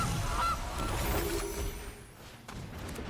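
A single goose honk rings out as the Gilded Goose card is killed in a digital card game, a short nasal call near the start followed by a soft thud and quiet game ambience.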